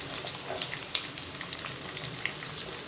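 Onions frying in hot oil with bay leaves for a Karnataka-style mutton biryani, giving a steady, dense sizzle with small crackles and pops throughout and no talking.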